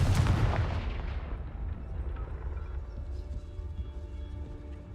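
A Confringo spell explodes in a Harry Potter video game, with a loud booming blast at the start that rolls into a long, rumbling decay and fades to a low background hum.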